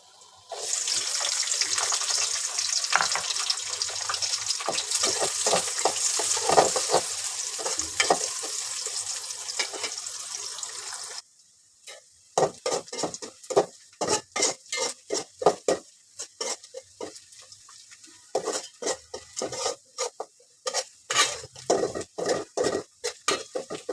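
Whole spices, chopped onion and two bay leaves frying in hot oil in a pan, a steady dense sizzle that suddenly drops away into intermittent scraping and stirring clatter.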